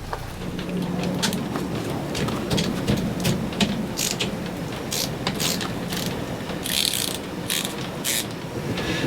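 A ratchet undoes greased cover bolts on a Detroit Diesel engine aboard a steel trawler, producing a run of quick, close metallic clicks in irregular bursts over a dense, noisy background.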